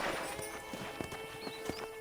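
Horse hooves clip-clop at a steady pace in the video game Red Dead Redemption, each hoof strike crisp and distinct over a bright, constant background tone.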